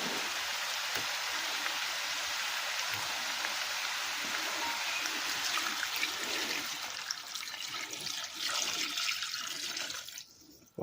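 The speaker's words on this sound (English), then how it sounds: "get our cup of water in there" Water pours in a steady, close rushing stream into a cooking pot for about ten seconds, then stops abruptly near the end.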